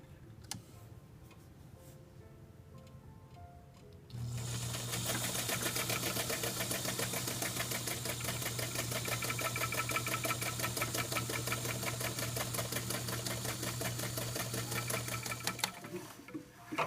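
A sewing machine stitches along the edge of a fabric table runner, starting abruptly after a few seconds of quiet and then running as a steady, even whir with a fast mechanical ticking for about twelve seconds before stopping.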